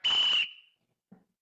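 A single sharp, shrill whistle blast lasts under half a second and trails off, followed by a brief soft thump.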